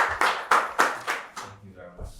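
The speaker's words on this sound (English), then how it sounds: "Please, a round of applause." Scattered audience clapping at a Ghanaian debate event, a few distinct loud claps in an uneven rhythm that quickly thins out, with a voice starting to speak at the end.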